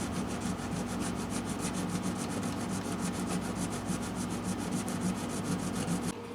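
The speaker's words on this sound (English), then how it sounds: "I'm going to smooth it over a little bit with this 400 grit sandpaper." 400 grit sandpaper rubbing over the wooden body of a Gibson J-45 acoustic guitar, a steady rapid back-and-forth rasp with even strokes, close and continuous, stopping just before the end.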